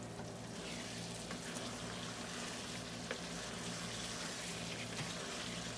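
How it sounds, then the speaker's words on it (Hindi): Water drains from cooked rice for mutton biryani, a steady rushing, splashing wash that runs continuously at moderate level with no talking. "चावल के पानी ड्रेन करते हैं।"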